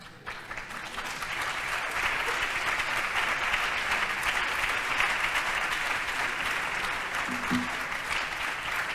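A lecture audience applauds steadily for about nine seconds, a dense and even wash of clapping heard from within the hall and with no talking over it.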